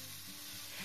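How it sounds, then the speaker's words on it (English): Boiled chow mein noodles pan fry in oil for a shrimp chow mein, a brief soft steady sizzle with no speech. "Let them pan fry for about 20 seconds."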